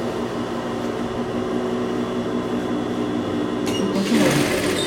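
A sewing machine runs steadily, stitching a bunched, gathered fabric for a blouse, its motor hum continuous throughout with a brief louder burst of rattling near the end.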